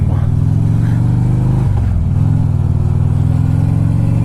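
A motorcycle setting off for a ride, its engine idling and revving close by with a steady low rumble and a brief pitch shift as it pulls away.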